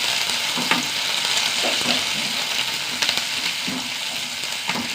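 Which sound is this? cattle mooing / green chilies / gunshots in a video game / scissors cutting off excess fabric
green chilies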